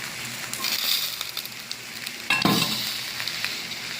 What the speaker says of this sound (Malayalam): എന്നിട്ട് നമുക്കൊന്ന് നന്നായിട്ടൊന്ന് ഇളക്കാം